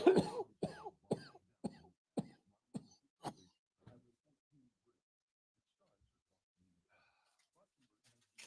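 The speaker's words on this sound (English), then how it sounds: "Sorry for coughing on stream." A run of about eight sharp coughs in quick, regular succession, fairly close and dry, then fading into near silence with a faint sound at the very end.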